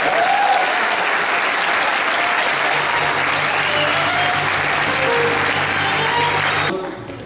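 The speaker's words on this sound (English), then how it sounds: "we applaud you for your effort" Audience applause after a tribute at a community event honoring a basketball-playing police officer, dense steady clapping filling the room for several seconds before tapering off near the end, with a faint voice underneath.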